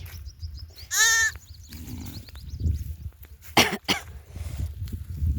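A ewe gives a loud, wavering bleat up close, followed by fainter high bleats of her two newborn lambs, coughs, and rustling nearby.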